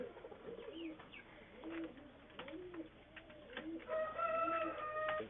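Pigeons belonging to a teacher coo in repeated low, soft phrases at close range, with a higher chirping bird joining near the end over steady outdoor background noise.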